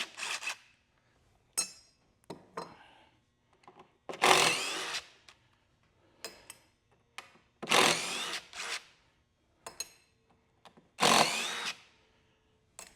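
A power tool backing screws out while a log cutting table is taken apart: several short whirring bursts of varying length separated by pauses, close and fairly loud, with no talk.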